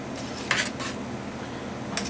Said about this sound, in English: Just going to take a slotted spoon and work the shrimp